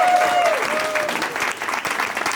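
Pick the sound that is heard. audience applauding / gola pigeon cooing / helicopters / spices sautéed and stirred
audience applauding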